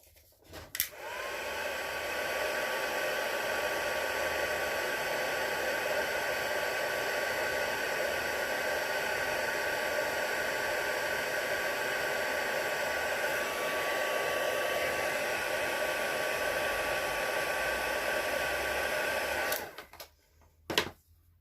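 Embossing heat tool heat-setting a stamped card, a steady loud blowing whoosh with a faint whine, running alone for about eighteen seconds before cutting off.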